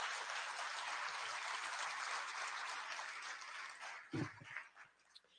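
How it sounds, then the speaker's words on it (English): Audience members at a political policy summit applaud steadily for about four seconds, a sustained wash of clapping at moderate distance that thins out into a few scattered claps and a thump at the end. "And yes, that deserves an applause."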